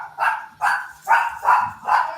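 A dog barks five times in a steady rhythm, each bark loud and close, with short gaps between them and no talking.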